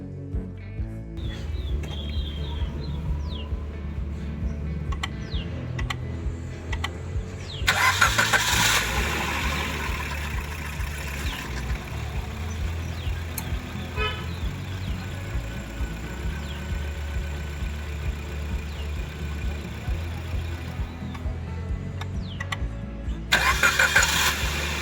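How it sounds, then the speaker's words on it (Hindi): A 2018 Maruti Suzuki Swift Dzire with over 1 lakh km, just fitted with a new timing system, cranks briefly and fires up, then settles into a steady mid-pitched idle heard close by with no talk over it. "ये आप सब देखोगे इंजन स्टार्ट हो गया, काफ़ी लॉन्ग क्रैंकिंग नहीं हुई"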